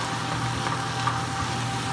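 Eggplant and tomatoes stir-frying quickly in a wok, an even close sizzle with faint stirring movement throughout, steady and unbroken.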